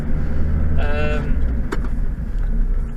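A 2003 Mazda MX-5 Sport being driven gives a steady low engine and road drone from inside the cabin, with someone talking over it throughout.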